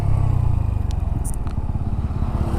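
A 2021 TVS Apache RTR 200 4V motorcycle running in sport mode while making a U-turn, its engine giving a loud, steady pulsing rumble with some light clatter and scraping over it.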